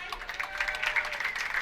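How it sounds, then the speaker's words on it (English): Crowd applauding at Silver Lanes during a women's professional bowling stepladder final, a brief burst of rapid hand claps from a modest gathering, fairly close and even. "That's a great hand clap from this wonderful crowd here at Silver Lanes"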